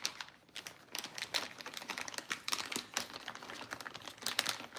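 A Ziploc plastic bag being folded at the edges while chicken drumsticks are coated in jerk marinade inside it, giving close, quiet, irregular crinkling and crackling for a few seconds, with no speech.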